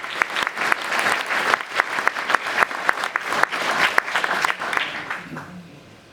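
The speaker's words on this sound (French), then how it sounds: "on peut l'applaudir, René" An audience at a town hall New Year greetings ceremony in Bousies applauds warmly, many hands clapping in a full, sustained burst that gradually thins and fades toward the end.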